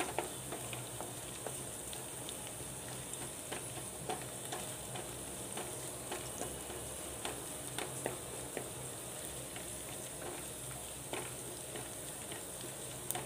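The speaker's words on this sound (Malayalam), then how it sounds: "ഫ്രൈ ആയി വരട്ടെ. മീഡിയം ഫ്ലെയിമിലേ വെക്കാൻ പാടുള്ളൂ." Green gram masala frying in a pan over a medium flame, a steady soft sizzle with occasional stirring clicks, close and continuous with no talk.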